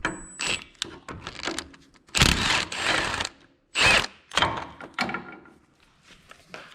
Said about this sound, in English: we got a 1/2 inch impact with a swivel and a 15mm socket